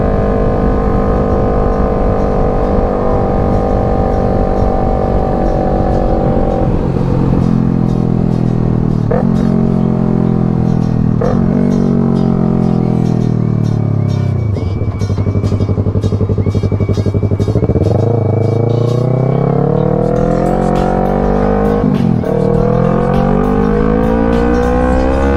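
A Yamaha sport motorcycle revs hard while riding, its engine note climbing and dropping repeatedly through several gear shifts, loud and close with wind noise.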